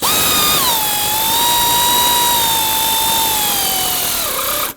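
A power tool runs steadily while tightening the valve cover bolts on a Ford Flex, a loud, close, continuous whine that drops in pitch as the bolt seats and cuts off at the end, with no talking.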